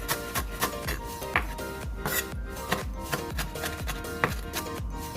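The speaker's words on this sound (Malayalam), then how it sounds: "ഇത് ഇതുപോലെ ഫൈനായിട്ട് ചോപ്പ് ചെയ്തെടുക്കണം" Fresh parsley leaves being finely chopped with a knife on a board, a steady run of crisp, close blade taps repeating several times a second with no talking over them.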